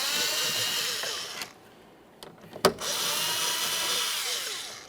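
A power drill whirs steadily, stops for a second with a few clicks and a thunk, then whirs again while backing out 5.5mm door speaker mounting bolts on a 2004-2008 Ford F-150.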